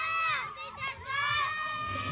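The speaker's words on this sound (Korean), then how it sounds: "갑자기 아이들의 함성이 커지는데" A crowd of schoolchildren at a village school performance shouts and cheers loudly, their high voices swelling together continuously through the moment.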